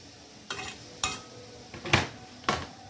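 A medium onion, chopped, cooks in mustard oil in a pan, heard as four or five sharp scraping stirs of a spoon against the metal over a faint sizzle.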